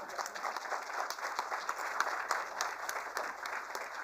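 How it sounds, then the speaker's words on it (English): Audience applause at the ISC-FICCI Sanitation Awards ceremony, a steady, fairly close wash of many hands clapping that holds evenly for about four seconds with no talk over it. "Smiles and claps don't cost anything."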